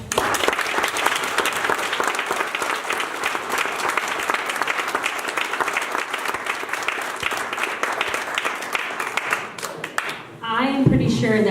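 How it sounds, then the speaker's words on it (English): An audience at a live storytelling event applauds in a long, dense burst of clapping that holds steady for about ten seconds, then fades as a voice begins speaking from the stage. "Let's give Scott another round of applause"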